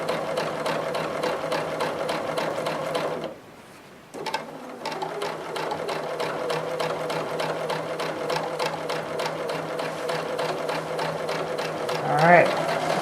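A sewing machine quilting along a straight line on a grid-design quilt runs in a fast, steady mechanical chatter, stopping for about a second midway before resuming at the same even pace, close and clear.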